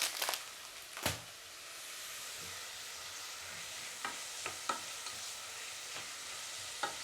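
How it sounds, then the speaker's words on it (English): Lentil bolognese being stirred in a pot on the stove, with a low steady sizzle throughout and a handful of sharp spoon scrapes and knocks against the pot scattered across the clip. "So we give this a stir."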